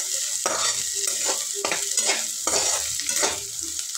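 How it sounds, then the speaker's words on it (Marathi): Onion frying on low gas in a pan for a fenugreek leaf dish, a steady close sizzle broken by repeated scraping stirs every half second or so, with no voices. "आता हा कांदा पण सोनेरी कलरवर तळून घ्यायचा आहे चांगला."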